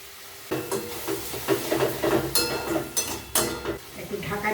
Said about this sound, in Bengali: এই যে মশলা কষানো হয়ে গেছে, তেলও ছেড়ে দিয়েছে। এইবারে আমি এই টমেটোর পেস্টটা দিয়ে দেবো।